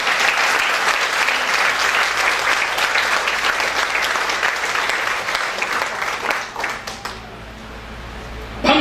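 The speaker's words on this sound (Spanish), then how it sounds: "Denle un aplauso al Padre, al Hijo y al Espíritu Santo ahí" Congregational applause at a Pentecost church service: dense, loud, sustained clapping that fills most of the stretch, then thins and fades before a final short burst.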